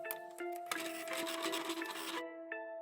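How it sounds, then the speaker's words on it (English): A sewing machine top stitching a leather handbag panel, its motor running in a steady whirring, rasping burst of about a second and a half, close and clear, followed by a brief click and quiet hum. "So then I add the top stitching on the front panel."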